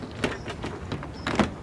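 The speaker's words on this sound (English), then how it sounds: "Next I'm going to reinstall the door panel onto the door," A car door trim panel being hooked over the top of the door sill during reinstallation, giving a series of plastic knocks and clunks, about five bumps spaced unevenly with a double knock near the end, close and moderately loud.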